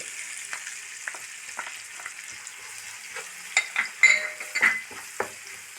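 Low, steady sizzling of salt, curry leaves and ginger-garlic paste frying in a pan, with scattered clicks and short scraping stirs that pick up toward the end.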